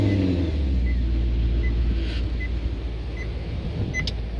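A 2017 Maserati Gran Turismo engine cold start, heard as a loud, steady deep idle rumble close by, with faint intermittent chime beeps over it and no talking.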